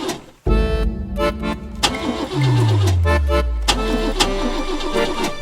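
A manual-transmission car's engine is cranked during a driving test, catching briefly then sagging with a falling pitch and sputtering, as if close to stalling, heard from inside the car.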